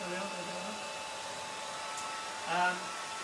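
A hair dryer blows steadily on a watercolour painting of a French village scene, a constant close airy whir throughout, with a brief louder surge near the end.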